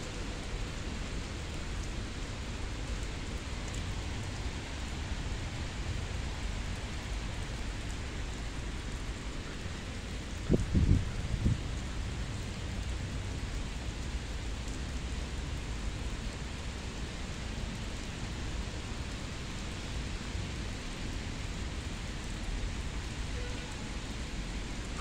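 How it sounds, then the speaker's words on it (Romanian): Light rain falls in town, a soft even hiss of steady broadband noise with one brief louder disturbance near the middle, otherwise unchanging. "Plouă încet,"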